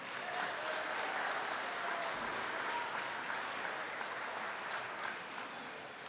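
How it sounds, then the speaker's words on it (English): Steady, distant round of applause from a crowd at a Lima wrestling hall of fame event, a continuous even wash of clapping that holds at a moderate level throughout. "Give yourself a round of applause."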